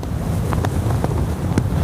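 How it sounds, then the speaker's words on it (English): A strong gale roars across a bridge construction site where cranes lift a 600-ton bridge section, a loud, constant buffeting rush with deep low rumble and a few brief gusty bursts, with no voices. "The cranes get the bridge in place when suddenly a strong wind gets up."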